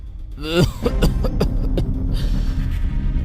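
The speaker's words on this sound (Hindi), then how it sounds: "उसने देखा एक 70 साल के बुजुर्ग पलंग पर लेटे लेटे खांस रहे थे" An elderly man of seventy lying in bed coughs in a short burst of several harsh, hacking coughs, close and fairly loud, followed by low rumbling background.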